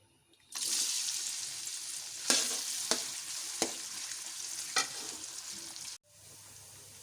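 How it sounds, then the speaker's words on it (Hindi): Chopped onions hit half a cup of hot oil in a kadai and burst into a loud, steady sizzle, with a few sharp stirring scrapes over the hiss before it suddenly cuts off near the end. "अब हम इसमें प्याज डालकर फ्राई कर लेंगे"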